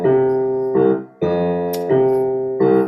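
A Latin-style bass line, Brazilian-influenced, is played as a steady repeating pattern of clear, sustained low notes. It sits close and loud, and no talking is heard over it.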